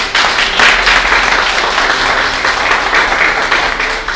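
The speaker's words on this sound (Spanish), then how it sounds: "¿Cuánto le puede regalar un aplauso al Señor?" Church congregation applauding during a Spanish-language sermon on the resurrection, loud dense clapping that holds steady from start to finish, with no voices over it.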